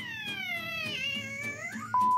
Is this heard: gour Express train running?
no